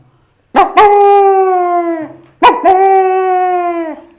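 A human voice imitates big dogs barking while running, with two long, deep, drawn-out barks that stretch almost into howls, loud and close.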